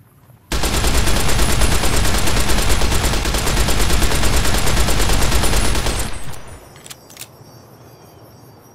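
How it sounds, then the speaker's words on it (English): A gun fires in a modded video game, a loud, close, unbroken automatic burst lasting about six seconds, then a few faint mechanical clicks as it stops. "the magazine should cycle back and forth when the gun fires"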